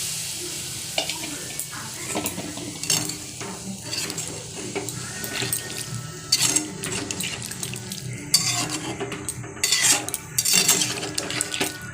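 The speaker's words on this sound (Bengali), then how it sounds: "এবার জল দিয়ে দিলাম।" Water goes into a hot pan of spicy soybean curry, setting off sizzling and bubbling, with scattered metal clinks and scrapes of stirring and utensils against the pan throughout.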